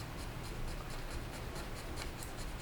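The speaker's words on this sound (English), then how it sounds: "I'm going to go at it with a blunt knife first." A blunt knife scrapes repeatedly at a plastic model kit part for a Hasegawa Lancia Stratos HF Stradale build, giving a close, rhythmic series of short scratchy strokes with no voices.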